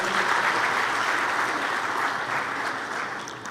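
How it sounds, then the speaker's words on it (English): A conference audience gives a final round of applause to a doctor after her presentation on science for commercial and rural development; dense, steady clapping that fills the room and fades slightly toward the end. "Do we want to give her a final round of applause?"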